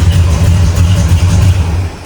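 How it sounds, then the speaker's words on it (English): A 1969 Ford Cobra with a 428 Super Cobra Jet V8 and Drag Pack rumbles at idle, a deep steady low burble heard close and alone for a couple of seconds. "Car sounds great, has a nice rumble to it."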